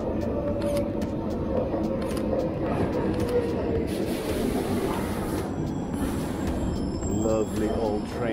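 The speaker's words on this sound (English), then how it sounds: "Lovely old train. I love trains." An old train rolls past on a city street around midday, giving a steady, close mechanical rumble with clanks and brake-like hisses that lasts throughout, with a voice murmuring over it.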